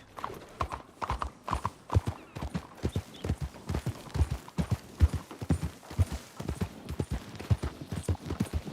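Horse hooves gallop in the video game Red Dead Redemption 2, a rapid, steady, rhythmic clip-clop heard clearly and alone, with no talking.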